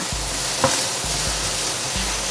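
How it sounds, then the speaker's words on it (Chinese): King oyster mushroom strips stir-fried in smoking hot oil give a steady close sizzle, with a few low scraping stirs and one brief clatter partway through. "現在鍋熱油熱，放入杏鮑菇絲，給它翻炒一下"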